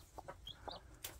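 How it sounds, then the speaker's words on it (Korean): Faint, high-pitched peeps from newly hatched chicks, a few short chirps scattered over a second with soft background noise. "삐약삐약 되는 소리."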